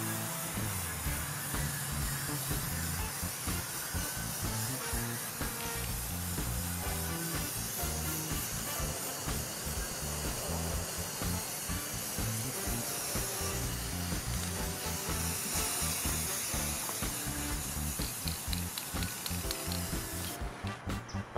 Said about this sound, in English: A little bit of clear for protection and shine.